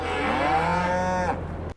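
Cows in Farming Simulator 22 let out a single loud, long low moo up close, then it cuts off sharply near the end.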